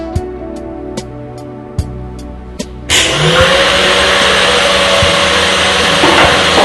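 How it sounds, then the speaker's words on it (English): An electric mixer starts up on high to whip an ice cream base for Lotus Biscoff ice cream sandwiches, a loud steady whirring that follows a few light knocks and clicks. "Mix on high until it's hard and doubled in size."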